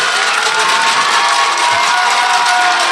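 A home crowd cheering at a judo Grand Slam in Ekaterinburg, a dense, loud, sustained roar of shouts and cheers filling the arena without a break.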